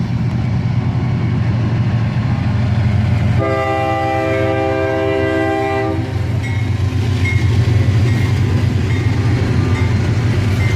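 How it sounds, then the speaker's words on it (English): Northbound two-locomotive autorack freight train led by an ES44DC, rumbling loudly and steadily nearby, with a sustained multi-note horn blast in the middle and rolling wheel clatter continuing after. "A northbound 2-locomotive autorack train, led by a ES44 DC"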